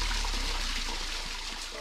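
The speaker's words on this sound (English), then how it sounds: "To see a waterfall in the desert is pretty neat." A seasonal desert waterfall in Anza-Borrego flowing in spring, heard as a steady close rush and splash of falling water that stays even and continuous, with no voices.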